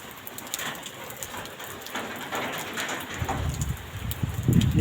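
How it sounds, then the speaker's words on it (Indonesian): Steady rain falling outside over a residential housing complex in Surabaya, a soft constant hiss that thickens toward the end, with faint bird calls in the distance. "Hujan terus."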